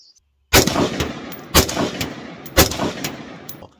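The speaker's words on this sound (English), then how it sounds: "I jerked the trigger a little bit on that first one" Three sharp, loud AR rifle shots fired one-handed through a regular flash hider, evenly spaced about a second apart, each a close crack followed by a short decaying echo, with no talking.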